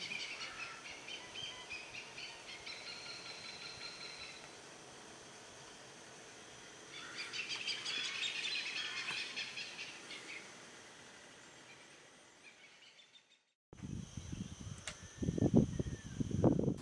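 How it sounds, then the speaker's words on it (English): Birdsong from a small island at an anchorage, many chirps and calls blending into a steady chorus at a moderate distance, then a break followed by closer, louder knocking and rustling. "in the lee of a small island that has come alive with birdsong."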